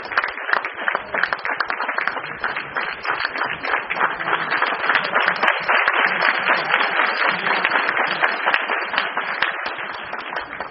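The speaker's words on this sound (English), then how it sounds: "Please give a big round of applause for yourself." Sustained applause from a large audience at a business recognition event, dense and even clapping that keeps going strongly for several seconds with no talking over it.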